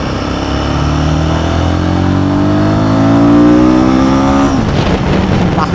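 Royal Enfield Guerrilla 450 motorcycle pulling hard in second gear, its loud engine note rising steadily in pitch before a sudden drop at the shift, close and alone.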